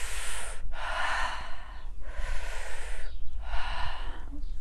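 Deep, forceful breaths during a yoga breathing and movement practice, three long audible inhalations and exhalations in a slow steady rhythm, close to the listener with no talking.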